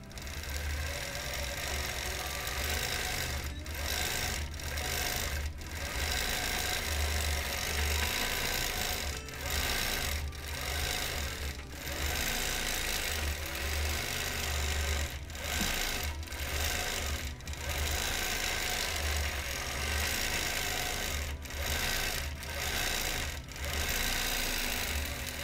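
Sewing machine quilting feathers on a small wholecloth quilt, a continuous close motor hum and needle chatter running steadily throughout, broken by several brief stops and restarts.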